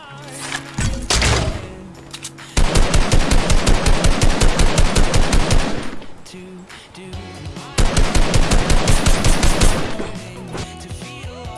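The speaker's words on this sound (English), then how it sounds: "I'm just going to shoot at nothing." Rapid automatic gunfire in the Fortnite video game, two long sustained bursts of fast, evenly spaced shots, loud and close, separated by a brief pause, with a few scattered shots beforehand.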